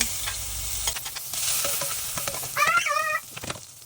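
Garlic sizzling in hot cooking oil in a pan while ginisang ampalaya is being prepared, a steady close crackle with brief stirring scrapes, no talking.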